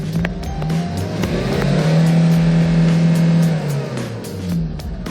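A ten-year-old Kia Bongo III King Box diesel truck with a manual transmission revs during acceleration, its loud, close engine drone rising, holding and then easing back down.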